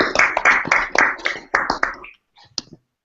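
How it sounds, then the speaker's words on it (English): A small audience claps after a group lecture presentation, a short run of close, uneven handclaps that stops abruptly, followed by a few faint isolated claps. "Let's give an applause to the group."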